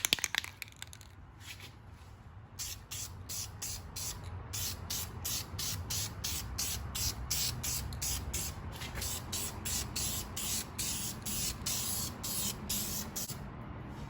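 A spray gun hisses steadily while painting the rear end of a TL car, with rapid pulsing passes layered over a low background rumble, close and continuous with no talking.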